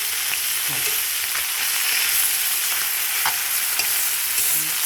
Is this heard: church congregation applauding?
no